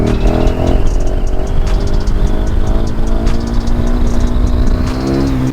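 A KTM 1290 Super Duke R's engine revs loud and near in a sustained, even drone whose pitch drifts slowly downward before easing off slightly at the end.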